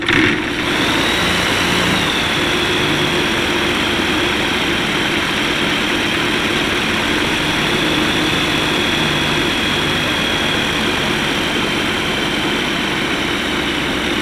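A Skyranger light aircraft engine runs continuously after a brief start, droning with a steady propeller hum and no voices.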